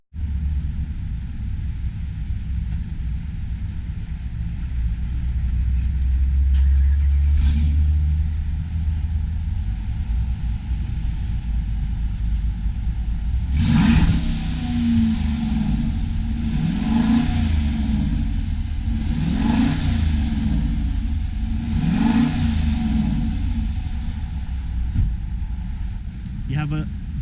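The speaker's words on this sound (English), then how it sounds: "You have two exhaust pipes here, which are actual exhaust pipes, not the fake ones, and you have this sound" Exhaust note of a 2019 Dodge Durango R/T SUV with twin real exhaust pipes, a steady low engine rumble that swells with several rhythmic revving bursts in the second half, close and loud.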